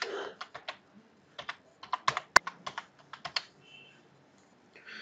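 Close, loud keystrokes on a computer keyboard while entering a prompt message into a Python program, coming in short irregular bursts with scattered single taps and pauses and no voices.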